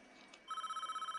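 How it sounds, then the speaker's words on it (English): A telephone in the prison-management game Prison Architect starts ringing with a fast, even electronic trill that is close and steady. It cuts in abruptly after a brief stretch of quiet background sound. "I'm gonna answer the goddamn phone"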